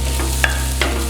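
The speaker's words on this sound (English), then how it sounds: "Next goes a spoon of ginger garlic paste. Cook it for a minute or 2 until the raw smell disappears." Ginger garlic paste cooks in a pan with a soft sizzle, and two brief spoon scrapes sound over a steady low hum.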